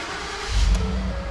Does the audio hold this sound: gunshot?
no